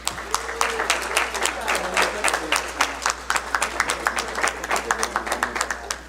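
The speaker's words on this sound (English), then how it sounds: "Let's give them a big round of applause." Audience applause at a city council meeting honoring a junior and senior team from Desert Hot Springs, with dense clapping and sharp individual claps throughout, fairly close and steady with some talk faintly mixed in.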